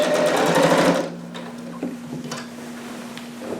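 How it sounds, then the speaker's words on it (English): A sewing machine runs fast and close for about a second while stitching the side seam of a McCall's 7402 harem jumpsuit, then stops. Quieter handling taps and a low hum follow. No one speaks. "I'm going to start stitching at the top of that side seam."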